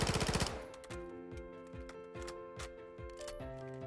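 PDSW 528 submachine gun fired without attachments on a video game firing range, a rapid burst of close, loud shots followed by a rhythmic series of metallic clicks and mechanical clacks.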